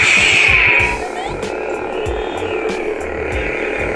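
A Sabertrio Reaver lightsaber running its Hoth sound font gives a loud, steady electric hum with a rising ignition sweep at the start and a few faint swings and clicks, close by with no talking.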